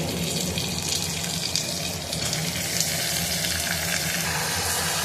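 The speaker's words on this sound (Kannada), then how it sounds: "ಈಗ ಇದಕ್ಕೆ ನಾನು ಕ್ಲೀನಾಗಿ ತೊಳೆದಿಟ್ಕೊಂಡಿದ್ದಂಥ 1 kg ಮಟನ್ನ ಸೇರಿಸ್ಕೊತಾ ಇದ್ದೀನಿ" Washed mutton goes into a pan of frying onions, giving a steady loud wash of sizzling and watery hiss that runs through the whole stretch without pause.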